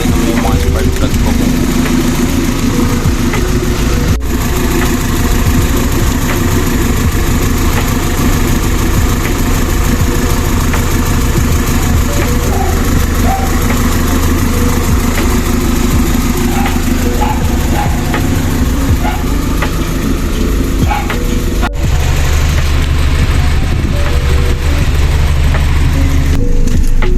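A car engine idles unevenly with a rough, misfiring note, steady and close for a long stretch while someone talks over it.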